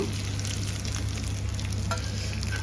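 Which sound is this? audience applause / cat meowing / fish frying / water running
fish frying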